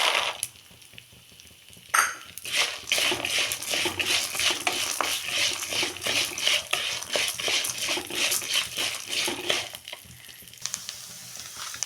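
Peanuts frying and being stirred in a pan over a low flame for a drumstick-leaf chutney powder: a continuous soft sizzle punctuated by rhythmic scraping and clinks of a spoon against the pan, up close with no talk.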